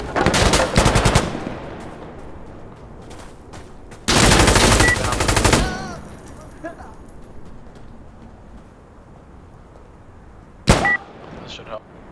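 Rapid automatic gunfire bursts in the shooter game Insurgency Sandstorm, two long loud volleys followed by a single sharp shot later, with quieter game ambience between.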